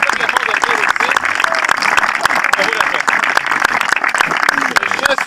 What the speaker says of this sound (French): un bon applaudissement à tous pour vous autres